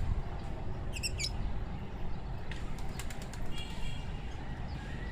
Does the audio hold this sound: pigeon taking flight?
yes